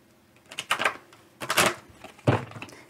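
Romance angel oracle cards being shuffled by hand, three separate bursts of crisp papery riffling and snapping at close range, with quiet pauses between them.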